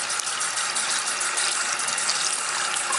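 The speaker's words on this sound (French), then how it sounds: "on mouille avec de l'eau froide" Cold tap water runs steadily onto a beauty blender makeup sponge dupe, a continuous close hiss of flowing water with no talking.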